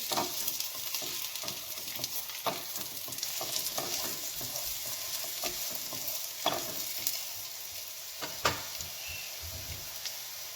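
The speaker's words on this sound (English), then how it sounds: "Okay, so I'm just going to saute them." Vegetables seasoned with salt, turmeric and Chinese spices sauté in oil for a veg biryani, a continuous soft sizzle broken by repeated scraping and stirring knocks from a spoon against the pan.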